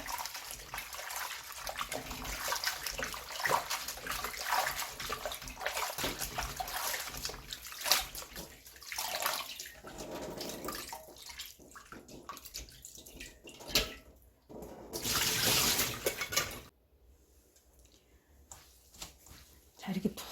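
Soaked miyeok seaweed squeezed and rubbed by hand in a bowl of water for beef seaweed soup makes wet squishing and sloshing, with splashes and a brief rush of running water near the end.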